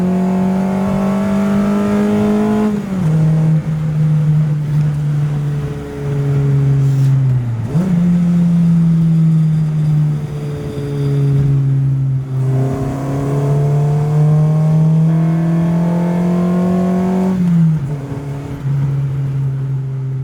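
Mini fitted with a USDM B18C5 Integra GSR engine on a Mini Tech subframe kit, revving loudly and close with a rising, falling VTEC howl across several throttle blips and steady holds.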